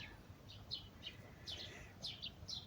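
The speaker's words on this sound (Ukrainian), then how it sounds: "Ранок співають пташки." Birds chirp and sing in the morning in short, repeated phrases, fairly faint and a little distant, over a quiet outdoor background.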